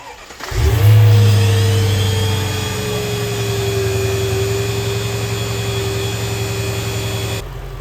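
A hydraulic tandem pump on a car under ABC valve block repair starts abruptly and runs with a loud steady whine and drone, easing slightly after the first second, then cuts off cleanly.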